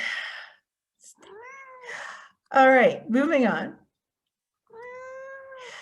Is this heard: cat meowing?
yes